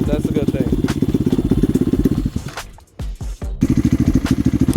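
A Lifan KP Mini 300 motorcycle with a 4-valve ZS175FMN engine and a swapped carburetor runs close by, its throttle blipped so the rapid firing pulses rise and fall, dropping briefly to near quiet before revving again.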